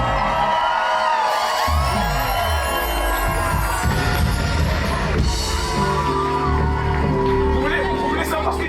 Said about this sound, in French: je veux un tonnerre d'applaudissements pour le Big DJ